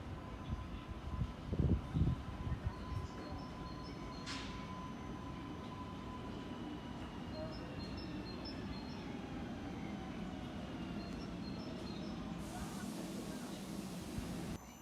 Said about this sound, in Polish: I mamy wjazd pociągu Regio z Wrocławia Głównego.